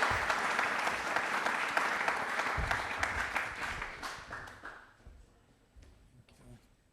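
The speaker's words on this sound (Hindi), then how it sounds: "तालियां प्लीज एक बार जोरदार सर के लिए।" Audience applause for Professor Dr. Pradeep Kumar Sharma, a university registrar, at a Republic Day quiz programme broadcast, steady dense clapping that fades out over the last couple of seconds.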